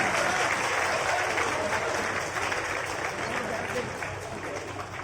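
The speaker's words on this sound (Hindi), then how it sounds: "तालियां आपकी तरफ से जोरदार हो" An audience claps during an honoring ceremony at a government event for tribal students' hostel inauguration in Jharkhand, a loud, sustained burst of applause that stays dense and steady, easing slightly toward the end.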